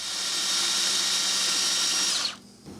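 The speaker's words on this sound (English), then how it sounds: "let me try and drill into that" A loud, steady high-pitched whine of an electric drill drilling into the head of a screw, running continuously for about two seconds, then cutting off abruptly.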